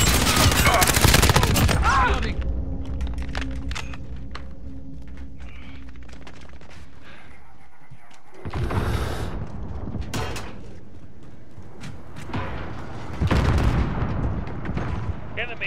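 Heavy gunfire in Call of Duty: Modern Warfare: a dense, loud burst of automatic fire and booms, then sparser shots and impacts with shouting voices in between.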